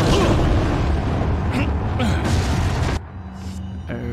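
Shotgun blasts in Resident Evil 4, dense booming game sound with bursts and impacts, dropping to a quieter hum near the end, with a voice talking over it.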